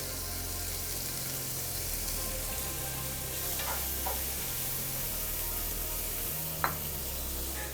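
Onions fry in oil in a pan with a steady, close sizzle that runs throughout on its own, broken by one brief clatter near the end.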